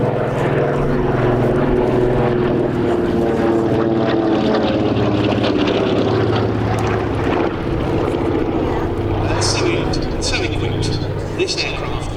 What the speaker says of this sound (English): This aircraft went on to be flown operationally by Cochrane and by his co-pilot